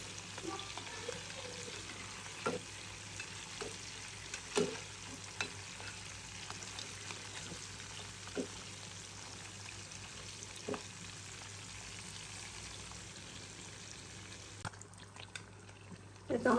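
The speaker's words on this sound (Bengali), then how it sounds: "উল্টে উল্টাই দিয়ে দিয়ে ভাজতে হবে" A second batch of crabs frying in a pan as they are turned over. A steady close sizzle runs throughout, broken by occasional scrapes and clacks from flipping.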